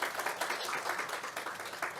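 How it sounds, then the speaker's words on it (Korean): Audience applause for the panel chair, presenters and discussants on stage at a forum session, a brief dense patter of many people clapping at moderate volume. "다시 한번 무대 위 좌장, 발표자, 토론자께 큰 박수 부탁드립니다"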